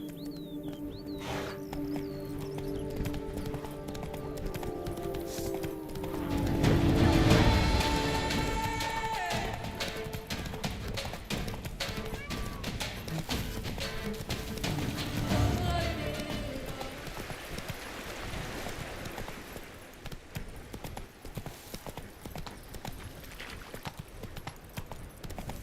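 Galloping horse hooves in The Witcher 3: Wild Hunt, a moderate rhythmic clatter running under game music and ambient sound, with a surge of louder activity partway through.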